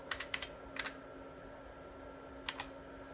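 Keys clack on an IBM Portable PC 5155 keyboard in a quick cluster of crisp strokes, then a pause and two more near the end, close and faint over a steady electrical hum.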